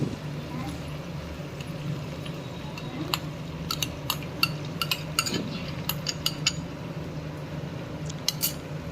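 A spoon stirs spices into potatoes and peas in a pan, with scattered metallic clinks and scrapes over a low cooking hiss while a voice talks throughout.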